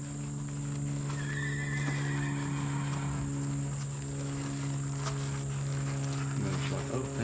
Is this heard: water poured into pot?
no